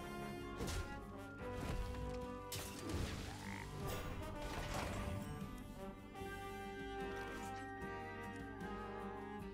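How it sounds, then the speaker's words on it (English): A frog croaks in the Hearthstone card game amid game effects, with crashes, thwacks and a bright magical swell over steady background music. "This kills the frog."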